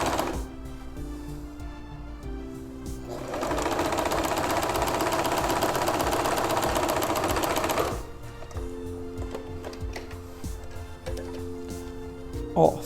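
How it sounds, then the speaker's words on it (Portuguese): Sewing machine running a straight seam along a line on fabric, a steady rapid mechanical whirr lasting about five seconds, with someone speaking quietly before and after it. "E agora passo a costura reta em cima dessa linha"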